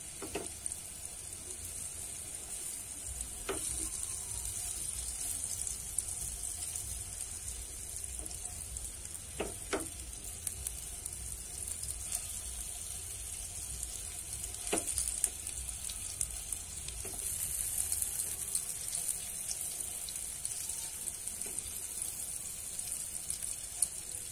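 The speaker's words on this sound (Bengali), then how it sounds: "আমি এপিট ওপিট করে ভেজে নেব" Food fries quietly in a pan and is turned from side to side, with a faint, even sizzle throughout and a few soft scraping clicks as it is flipped.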